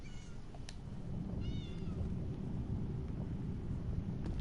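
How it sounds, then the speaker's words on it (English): Cats meowing in the Elder Scrolls Online game, a few short rising mews over a steady windy ambient rumble. "What's with the cats meowing?"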